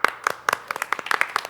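A small group claps at an uneven pace, a dozen or so crisp, close hand claps scattered over a second and a half, with no talking.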